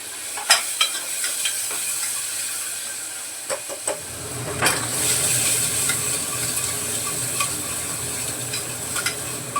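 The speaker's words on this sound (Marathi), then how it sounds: "कांदा टमाटा परत आता कोथंबीर पण फोडणीमध्ये घालते" Onion, tomato and coriander sizzle in hot tempering oil while a spoon stirs and scrapes the pan. The frying hiss is steady and close, broken by scattered clinks and scrapes, with no talk.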